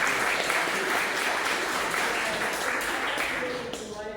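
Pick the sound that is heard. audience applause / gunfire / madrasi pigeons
audience applause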